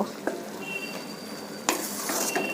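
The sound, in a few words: papaya pieces frying with spices in a pan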